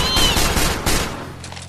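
Rapid gunfire from Team Fortress 2 crackles in a dense, loud burst for over a second, then cuts off, leaving a quieter game hum with no one talking.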